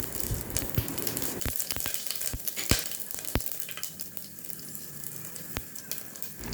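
Cumin seeds crackle and sizzle in hot oil alongside cinnamon, cloves and pepper while cooking paruppu arisi sadam. The frying is steady and dense, with sharp pops scattered throughout, close and unaccompanied by talk.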